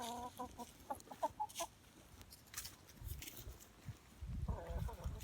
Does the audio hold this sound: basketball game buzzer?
no